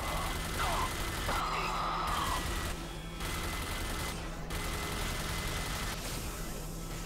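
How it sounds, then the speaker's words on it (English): Gunfire in the video game RAGE: dense, loud bursts of automatic shooting fill the whole stretch alongside engine-like drone and other game effects, with no break. "I'm shooting at him. You're damn right I'm on the gun."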